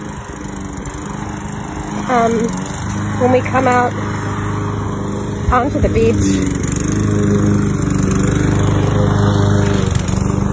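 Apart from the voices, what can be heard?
lawn mower running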